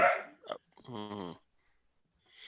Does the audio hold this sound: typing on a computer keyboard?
no